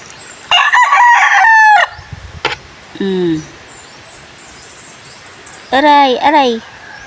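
A rooster crows loudly up close, followed by a few short clucks and another crowing call, with quiet gaps between.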